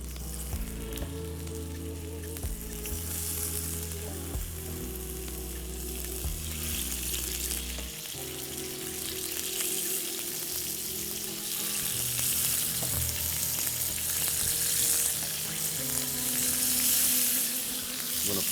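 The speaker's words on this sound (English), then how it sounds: "Hear that sizzle?" Chicken pieces laid into a pan of vegetable oil on medium-high heat sizzle loudly and continuously up close, with occasional clatter of handling at first and the frying growing steadily stronger.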